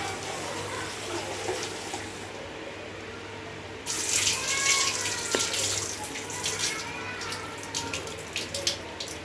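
Tap water runs steadily into a sink while leafy greens (puntikura, gongura/sorrel leaves) are washed for dal, the splashing growing louder and fuller midway and continuing without speech.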